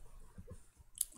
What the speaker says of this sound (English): we double click on that